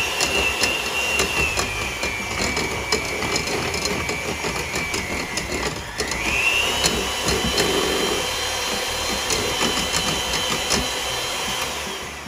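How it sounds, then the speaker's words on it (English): An electric mixer runs on medium speed through oil and sugar for lemon poppy seed cookies, a steady whirring motor whine with a brief dip in pitch midway, close and continuous. "now we're just going to mix it on medium speed"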